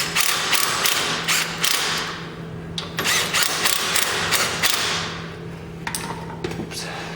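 A hand ratchet clicks in quick bursts while snugging bolts on a brake assembly of a 1997 K1500 Suburban during a drum-to-disc conversion, the pawl ticking close to the mic with brief pauses between strokes.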